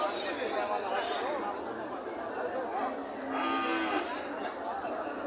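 A calf and other cattle at a livestock market, with drawn-out moos rising over the steady murmur of a crowd and nearby talking.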